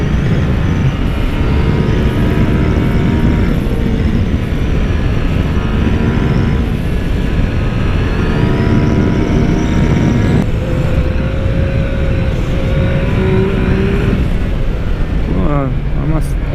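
2016 Yamaha FJ-09 motorcycle ridden hard on roads, a loud engine roar rising and falling through gears amid constant wind noise.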